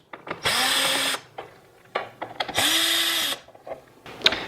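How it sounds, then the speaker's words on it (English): A powered screwdriver backs small Phillips head screws out of the rear panel of a Vizio TV being repaired for a power fault, in two sustained whirring bursts with short pauses and light clicks between them. "There's a very small Phillips head screw here and then another screw here. We're going to remove both these screws."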